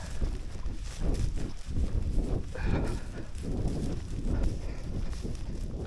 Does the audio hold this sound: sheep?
yes